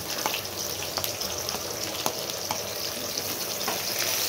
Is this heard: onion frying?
yes